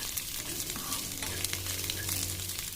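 Garlic and green chilli sizzle in hot oil in a pan for a seasoning, a soft steady crackle with a few sharper pops and some stirring, quiet and heard alone without talk.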